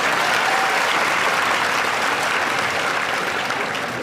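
A large audience applauds loudly and continuously, a dense, even wash of clapping that holds steady and eases off only slightly toward the end.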